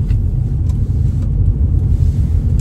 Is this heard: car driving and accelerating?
yes